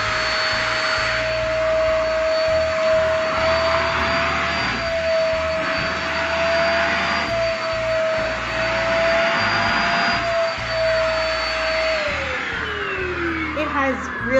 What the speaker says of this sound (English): let me plug this baby in and show you guys. All right, now we're gonna see the dust buster feature.